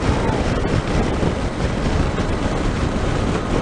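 Strong wind noise buffets the microphone while riding a motorcycle out on the road in mild weather, a loud, steady roar with no break.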